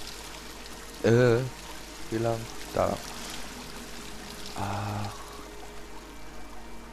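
Water pouring down like a shower in Dear Esther: a steady, even rush of falling water runs continuously in the background while someone speaks a few short words over it.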